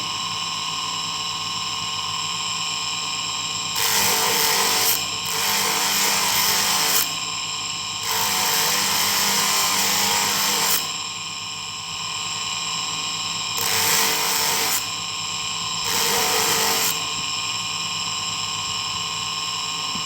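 Bursts of abrasive sanding of a mokume gane metal ring with 150-grit sandpaper, in repeated strokes, each a few seconds long with short pauses, over a constant motor-like hum.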